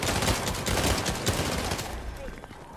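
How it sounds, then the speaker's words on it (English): Rapid bursts of gunfire in the Fortnite video game, dense and continuous like a fusillade, with a player's voice talking over the shooting. "Gunfire makes me nervous."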